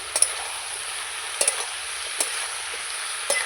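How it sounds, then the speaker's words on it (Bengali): Chili-ginger paste stirred in a cooking pan, a faint low sizzle punctuated by a few sharp utensil scrapes and taps spaced about a second apart. "এবার একটু নেড়ে চেড়ে নেব ভালো করে"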